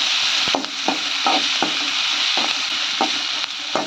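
Onions and green chillies sautéing in a pan, a steady high sizzle with a utensil scraping and tapping the pan in a repeated stirring rhythm, close and without talk.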